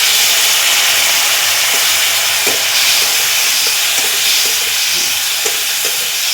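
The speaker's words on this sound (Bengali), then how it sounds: "একটু সামান্য জল দিয়ে আমি মশলাটা ভেজে নেব।" Garam masala spices frying in a pan with a splash of water give off a loud, continuous hiss and sizzle, with occasional soft clicks of stirring close by.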